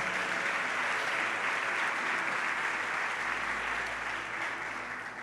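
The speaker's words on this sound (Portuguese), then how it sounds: "Dê a Ele um lindo aplauso." A church congregation applauds together in a steady, dense wash of clapping that holds for several seconds and eases slightly toward the end, with no talking over it.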